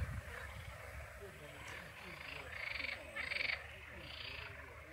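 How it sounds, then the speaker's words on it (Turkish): Many frogs croak across the longoz flooded forest at İğneada, a dense, steady chorus with brighter rising calls near the middle and soft talk underneath. "kim bilir kaç milyon tane şu an kurbağa var burada"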